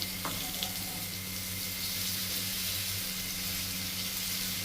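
Onion paste frying in hot oil for a koi fish curry, a steady loud sizzle continuing throughout, with a faint clink at the start.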